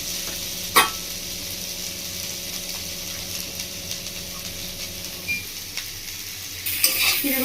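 Spices for a Bengali fish curry sautéing in a pan, a steady soft sizzle with occasional sharp stirring clinks and scrapes, close and continuous, brightening into a louder hiss near the end.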